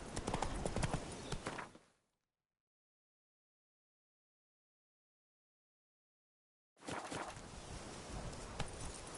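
Hoofbeats of the horse Roach in The Witcher 3, rapid clip-clop close and loud for about two seconds, then full silence, then the hooves resume.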